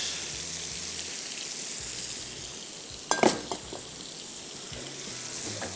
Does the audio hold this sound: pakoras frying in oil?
yes